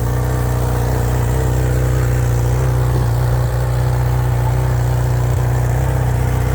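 A Honda engine runs steadily and loudly up close, holding a constant low hum with no clear rise in pitch and no talking.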